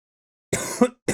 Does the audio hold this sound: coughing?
yes